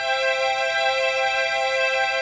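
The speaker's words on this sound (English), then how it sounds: "So it gives it kind of a mix of a square and a saw sound like this." ARP Omni synthesizer string sound with waveform enhancement, a sustained bright buzzy chord blending square and sawtooth character, held steady and alone without talk.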